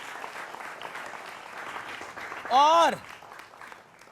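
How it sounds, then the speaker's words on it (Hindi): Studio audience applause welcoming panelists, including a Janata Dal United spokesperson, on a Hindi TV debate show; steady mid-level clapping runs under a presenter's talk, with a brief louder swell near the end. "जोरदार तालियों से अभिनंदन है।"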